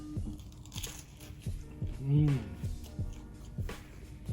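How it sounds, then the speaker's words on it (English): Someone bites into and chews crunchy Korean garlic soy fried chicken, with close, rhythmic crunches repeating about every half second and a brief hum in the middle. "That crunch."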